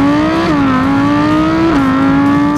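A 610-horsepower Audi R8 sports car accelerates hard, its loud engine note climbing in pitch, dipping at two gear changes, then rising again, close and continuous.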